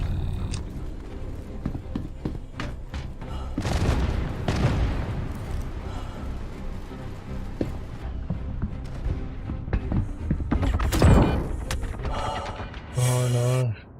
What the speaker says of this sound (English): The sweet sound of ship fire and explosions rings from outside